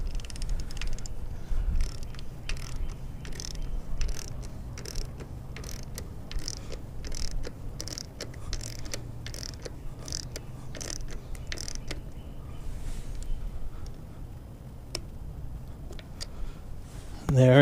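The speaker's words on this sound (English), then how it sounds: "let's hit it with the torque wrench here" Torque wrench tightening the bolts of a Screamin' Eagle Stage 1 Performance Rail air cleaner on a Harley-Davidson, a steady run of small metallic ratcheting clicks over low background hum, close and fairly quiet.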